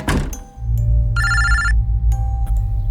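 An old-style telephone bell rings in a quiet room, one sharp burst of ringing near the middle with a few knocks and thuds around it over a low steady hum.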